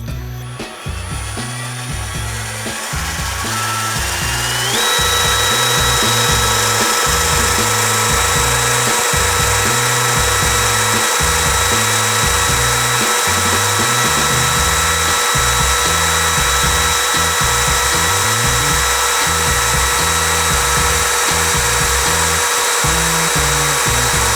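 A cordless hammer drill bores steadily through a workpiece, its motor whining at constant pitch over a rapid, rough hammering rattle that runs continuously and loud from start to finish, rising slightly after a brief softer opening.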